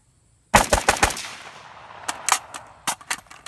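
A WASR rifle fires a rapid string of sharp, loud shots outdoors, each with a ringing tail, followed by a few more spaced shots and the faint metallic ping of rounds striking a steel plate.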